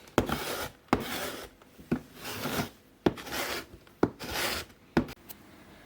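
Repeated rasping scrapes of a blade drawn across a block of chocolate to make shavings for a chocolate mousse celebration cake, about six close strokes in a steady rhythm, each opening with a sharp tick, with no talking.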